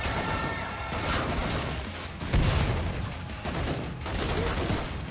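Dense, continuous gunfire from the video game Killing Floor 2, shots blurring into a loud, sustained barrage with one heavier burst midway and no talk over it.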